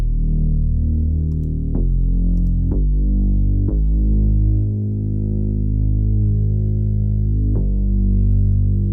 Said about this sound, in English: On this bass synth, which drives this entire song, it's actually two synths layered together, and the first one sounds like this.